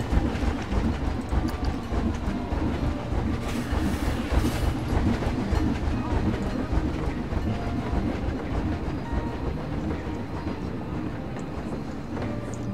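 Train running in the video game Planet Coaster, a steady rumble with rhythmic clickety-clack of wheels on rails and faint squeals, continuous and fairly close throughout.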